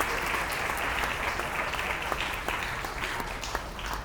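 Guests clap at a sangeet ceremony during an Indian wedding, a steady wash of many hands with a few sharper claps standing out near the end, no speech on top.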